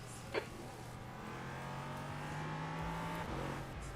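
An LMP3 prototype race car in iRacing at Watkins Glen holds a steady, fairly quiet engine drone with a slight rise in pitch. A small click sounds near the start.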